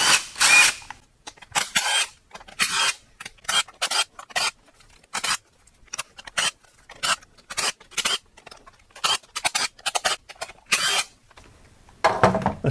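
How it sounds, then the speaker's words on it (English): Power tool backing out fifteen inverted 10mm valve cover bolts on a Chevy Volt engine: a series of short, sharp whirring bursts of a drill-style driver, repeated in quick irregular succession with brief silences between, fairly close and alone. "Now we can take our 15 10mm inverted bolts out."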